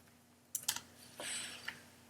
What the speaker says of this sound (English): Type in your password if needed.